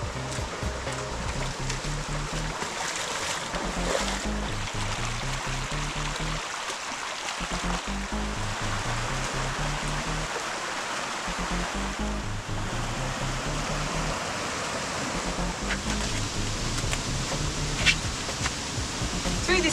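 A creek flows through a Blue Mountains canyon near Mount Wilson, a steady broadband rush of moving water that carries on close and constant, with wind-like noise and brief dips.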